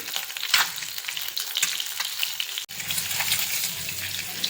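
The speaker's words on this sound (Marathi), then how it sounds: "अंडे छान असे फ्राय झालेले आहेत" Eggs fry in a pan for a Mughlai egg curry, a steady close sizzle with bursts of crackle and a brief break near the end, no voices.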